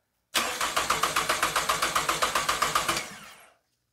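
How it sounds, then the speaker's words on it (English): A car's starter motor, jumped directly with no key in the ignition, cranks the engine in a steady rapid chugging rhythm for about three seconds without catching, then winds down and stops; close and clear, no talk. "It's just cranking, but it is not starting because I don't have the key inside the ignition."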